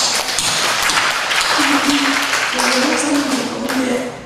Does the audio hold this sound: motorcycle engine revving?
no